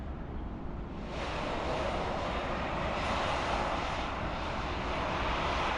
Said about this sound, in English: That is Vueling, having just landed.